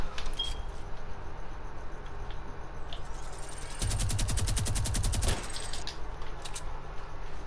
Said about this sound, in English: Who's shooting the minigun?